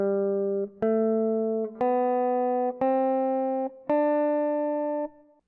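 A guitar plays the D Mixolydian open scale as five clean, evenly spaced notes rising one by one, each ringing out alone and close.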